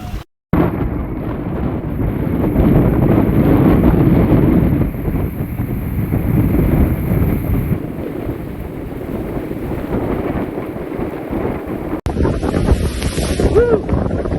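Hurricane Idalia's wind roars across the microphone with crashing surf at a seawall overflowing with waves, a loud continuous buffeting that drops out briefly near the start.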